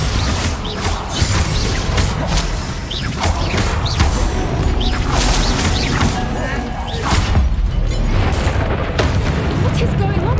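Booming spell blasts and crashing impacts from the Bombarda explosion spell in Hogwarts Legacy during a goblin battle, heavy and repeated, with continuous rumbling combat noise throughout.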